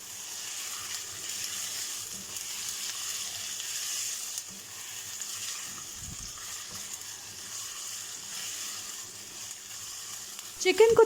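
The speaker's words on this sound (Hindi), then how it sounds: "अब बस फ्राई फ्राई फ्राई खूब अच्छी तरह से आपने चिकन को फ्राई करना है प्याज" Chicken fries in a pan with onion and garlic-ginger paste, giving a soft, steady sizzle throughout at low level, with a brief clatter of stirring near the end.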